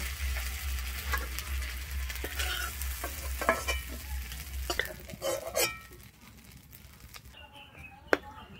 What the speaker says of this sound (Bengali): আমার চিংড়ি মাছটা এখানে লাল হয়ে ভাজা হয়ে গেছে।